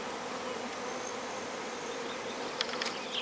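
A swarm of honey bees buzzes around their hive, a soft steady drone of many wings, fairly faint, with a few closer sharper buzzes passing near the end.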